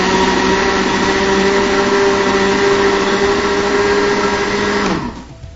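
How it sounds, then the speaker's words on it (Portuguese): A kitchen blender pureeing carrots for a diabetic recipe, a loud steady whirring motor drone running continuously at close range before cutting off and winding down at the end. "Se você tem um liquidificador muito antiguinho aí, né, você vai bater mais até que ele dissolva bem a cenoura."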